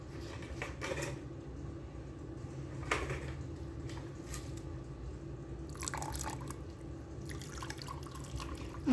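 Lye water poured into a cooking pot to make tallow liquid hand soap, heard as quiet, scattered trickling and dripping splashes over a low background hum, with a few brief louder pours.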